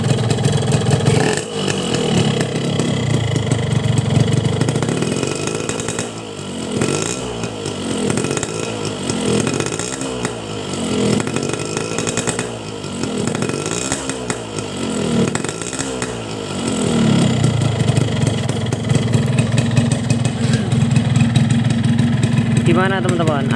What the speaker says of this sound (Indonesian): Gua geber dikit ya.